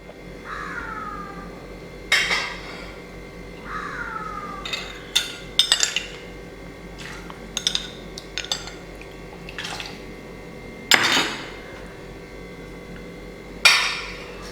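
A spoon scrapes and clinks in a pot of curry mixture of onion, spices, coconut milk and vinegar for fish and raw mango curry, giving irregular sharp knocks over a low steady background hum, with no talking.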